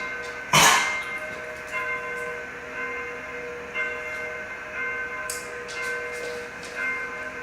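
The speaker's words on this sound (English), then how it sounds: "That's amazing, those bells." Bells ring with long, sustained tones that hang and overlap in steady resonant layers, opened by a sharp loud strike and followed by softer clangs.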